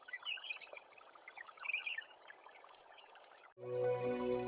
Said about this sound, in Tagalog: Ang lakas ng tunog ng mga palaka.